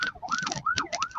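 An ambulance siren wails during a cycling race as the lead vehicles cross the Beaver Dam Bridge. One loud rising and falling cycle repeats quickly over roughly a second, near and clear.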